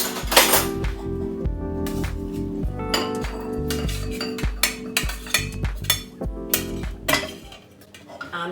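Black beans tipped and shuffled into a bowl, giving a series of clinking, rattling knocks at an irregular rhythm, close and fairly loud.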